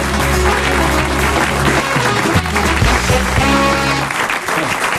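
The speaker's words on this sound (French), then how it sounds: "On applaudit Clarence Jacquard." A French TV show audience applauds throughout, a dense, loud, sustained clapping that fills the studio with no pause.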